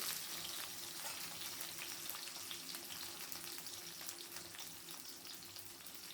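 Potato pieces frying in oil in a pan on a low flame for sukto, a continuous soft hissing sizzle, even and unbroken, close but fairly quiet.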